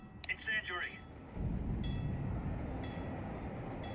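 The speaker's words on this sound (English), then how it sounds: "The train." Rumbling train rolling past in the Counter-Strike 2 video game, a steady continuous roar that starts after a brief burst of voice chat and carries on to the end.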